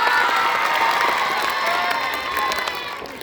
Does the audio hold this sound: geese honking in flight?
no